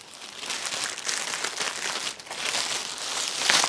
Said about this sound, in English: now go ahead and remove all the plastic protective covering from all of the pieces